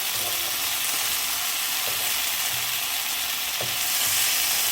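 Strips of beef frying in a hot pan for a beef and broccoli stir fry, giving a steady, close, even sizzle throughout with a few soft scrapes and turns of the meat.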